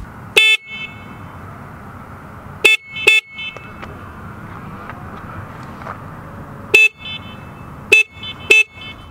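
The horn of a used motorcycle under inspection sounds six short, loud toots, spaced irregularly in pairs and singles over a low steady rumble.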